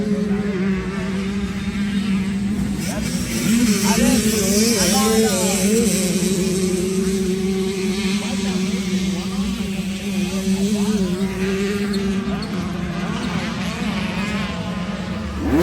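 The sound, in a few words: 2009 Yamaha YZ250 two-stroke dirt bike engine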